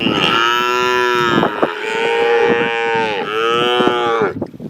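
Several cattle moo loudly in long, drawn-out calls, one after another, close by with little pause between them, in a Maasai livestock enclosure.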